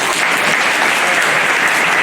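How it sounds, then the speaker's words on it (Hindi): An audience at a World Day to Combat Desertification and Drought event at AFRI, Jodhpur, breaks into continuous hand clapping, loud and close, with no speech over it. "तो ताली बजाओ"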